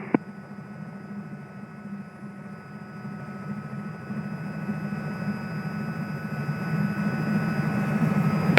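Robinson R66 helicopter holding a low hover near the runway, a steady loud turbine and rotor drone that slowly builds in strength, heard from inside the cabin with no talk over it.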